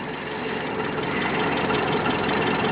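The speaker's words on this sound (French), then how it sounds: "le moteur tourne pas rond. Malgré un ralenti qui est bien tenu" A 1957 Citroën DS 19 idling with its engine running rough. A steady, close, mid-low mechanical drone with a faint uneven pulse continues throughout, and no one talks.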